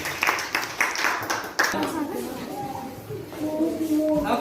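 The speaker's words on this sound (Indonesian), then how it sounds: "kita beri tepuk tangan untuk kelompok" A classroom group claps for a student team. Brief scattered clapping fills the first second and a half, then fades under a voice talking and some background noise.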